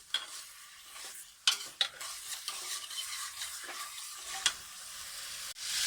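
Chicken for Peshawar-style charsi karahi is stir-fried over a high flame, a loud, continuous sizzle broken by repeated scraping stirs and a few sharp metal clinks against the pan.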